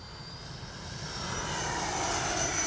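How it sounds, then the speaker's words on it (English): A radio-controlled L-39 model jet flies past, its turbine a steady broadband roar that swells gradually louder as it approaches, with no voices. "Just a phenomenal flying little jet."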